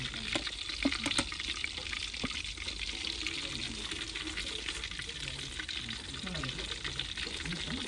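Chicken leg pieces deep-fry in hot oil with a continuous, fairly quiet bubbling sizzle that has scattered crackles and occasional pot clinks.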